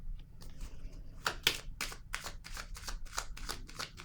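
Tarot cards being shuffled, a series of crisp riffling bursts close to the microphone that come in quick irregular succession in a quiet room with no voice.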